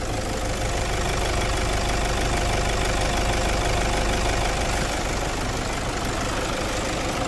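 A 2010 Toyota SW4 diesel engine idles after being removed and reinstalled, with a loud, steady, even clatter close up and no voices over it.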